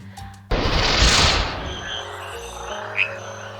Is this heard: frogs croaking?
yes